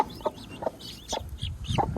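A hen clucks close by among small partridge chicks, giving several short, sharp clucks in an uneven rhythm with soft high peeping between them.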